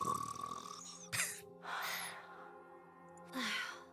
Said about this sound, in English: Gretel and I think Ave's snoring is goddess level